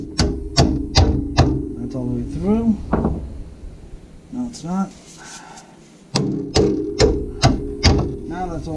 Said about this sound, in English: Give it a little persuasion from the hammer.